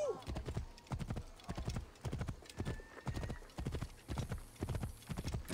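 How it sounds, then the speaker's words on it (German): A horse clip-clops at a steady trot in the video game Assassin's Creed Origins, regular hoof beats throughout with a brief whinny and someone talking over them. "Ich brauche Pferd."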